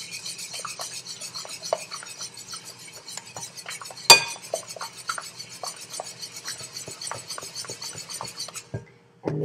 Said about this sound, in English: So I'm going to put in 4 tablespoons of sugar. 1, 2, then I'm going to mix it.